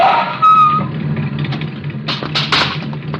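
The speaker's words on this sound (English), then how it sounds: "He comes to the intersection of a street and alley, just as a car turns the corner" In a radio drama, a car turns a corner with a brief tire screech and engine, followed by sharp, loud impact-like bursts, all close and dramatic with no speech.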